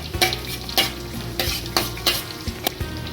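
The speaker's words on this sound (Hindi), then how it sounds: "अब देखिए, जीरा डाल रही, पहले तेल गर्म हो गया हैगा।" Cumin seeds sizzle in hot refined oil for aloo kofta. A constant, close hiss runs under sharp, regular scrapes and clanks of a spoon stirring, about every half second.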